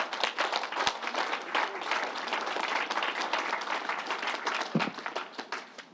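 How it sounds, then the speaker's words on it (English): Crowd at the New York State Fair applauding a reverend, dense sustained clapping from many hands filling the whole stretch, fairly close and even in loudness. "Let's give the Reverend another round of applause."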